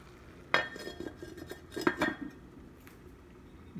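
Earthen clay cookware for ceramic stoves handled at close range, giving a few sharp knocks and clinks of a medium ceramic pot and lid with light scraping in between, with no talking.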